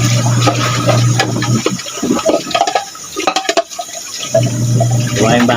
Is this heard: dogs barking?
no